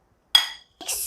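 Fruit salad stirred in a bowl, heard as two short, close bursts of clinking and scraping separated by a brief pause, with no talk.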